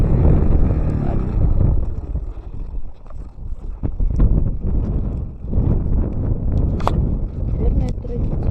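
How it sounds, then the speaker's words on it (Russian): Very strong wind roaring and buffeting a microphone outdoors on a rainy solo ride, loud and continuous throughout, with someone talking over it. "здесь безумный ветер. Очень сильный"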